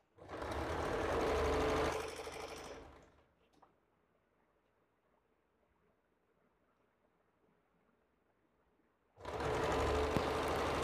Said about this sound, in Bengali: দেখুন আমি এখানে সাইড সেলাই করে নিচ্ছি।